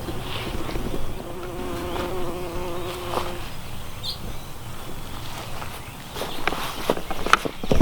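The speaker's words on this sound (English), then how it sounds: "We have some bees here that are really helping us out." Steady insect buzzing of bees in an open garden, a low continuous drone with some rustling and footstep-like shuffles nearby.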